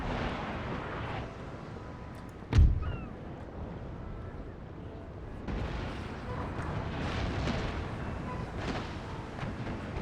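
In Empire: Total War, a Spanish second-rate battleship fires its cannon, one sharp heavy boom standing out over a continuous roar of distant naval battle noise, followed by further rumbling fire.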